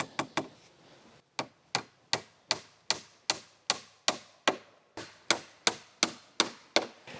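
A hammer drives 1.25 inch nails into a metal joist hanger while framing a shop floor: steady, evenly spaced sharp strikes, close and loud, with a brief pause after the first few blows.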